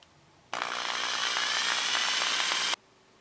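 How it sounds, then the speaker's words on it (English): A power drill whines at a steady pitch for about two seconds as it bores a hole into wood on a model boat, close and loud, then cuts off abruptly. "Let's drill a hole and see how it looks."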